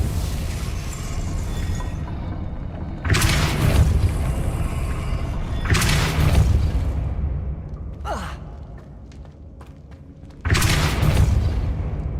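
In the Hogwarts Legacy video game, the Depulso spell is cast in several separate bursts, each a sudden whooshing blast with a booming, echoing tail, and quieter ambience fills the gaps between them.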